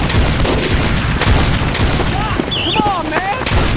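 Heavy gunfire from a player's large gun in Team Fortress 2, a dense continuous barrage of shots and booms with a person talking over it.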